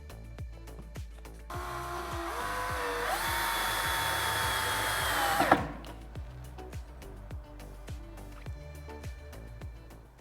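Power drill driving 16 mm screws into 18 mm wood, one sustained whining run that rises in pitch before stopping sharply, with light knocks and tapping repeating through the rest.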